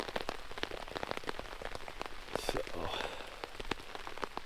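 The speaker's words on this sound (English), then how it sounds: "Hopefully we'll get a break in the rain." Steady rain patters on a campsite during a rainy camping trip, a dense continuous drizzle of drops hitting surfaces close by, with a brief word spoken over it.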